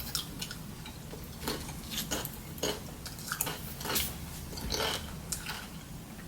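Sweet chili Doritos crunched and chewed up close, with a steady run of sharp crisp bites and chewing over several seconds and no talking.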